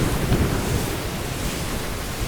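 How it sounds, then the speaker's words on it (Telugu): A deep rolling rumble of thunder mixed with a broad wash of rain or storm noise, continuous and fairly loud. "ఉరుములు మెరుపులతో వర్షం కురుస్తుంది"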